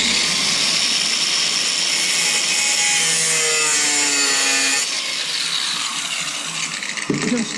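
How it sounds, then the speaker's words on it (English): Angle grinder cutting a motorcycle exhaust part on a Yamaha YZF-R125, a loud continuous high whining grind close up whose pitch shifts as the disc bites, then eases off near the end. "So let's get grinder ready."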